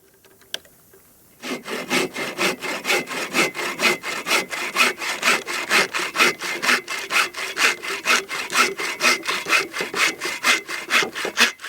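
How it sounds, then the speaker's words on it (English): Steady back-and-forth hand sawing through firewood at a wilderness campsite, around thirty evenly rhythmic rasping strokes, close and loud, after a brief quiet moment. "help cut some firewood"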